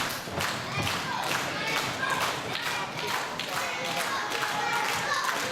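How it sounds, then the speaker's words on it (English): A wrestling crowd claps in rhythm, with regular beats of hand claps mixed with thuds in the arena, while a commentator talks over them. "Hear this crowd get behind Darrell Costello."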